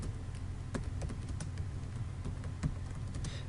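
Fingers type on a computer keyboard in quick, uneven bursts of crisp key clicks that continue steadily, close and moderately loud, with no voice over them.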